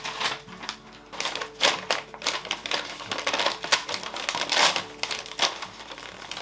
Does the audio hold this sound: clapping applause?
no